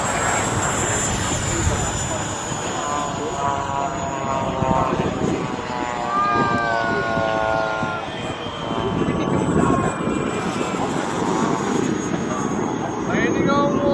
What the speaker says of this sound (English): Got ourselves an F-16 right here, probably an eFlite.